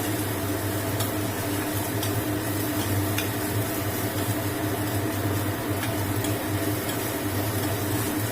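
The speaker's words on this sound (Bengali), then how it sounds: "আদা কাঁচা লঙ্কাটা দিয়ে আমি পেঁয়াজের সঙ্গে ভালো করে মিশিয়ে নিচ্ছি" Onions, ginger and green chili are stirred together in a pan for stuffed parwal, giving a steady, quiet, continuous sizzle and scrape that stays even throughout, with no voices.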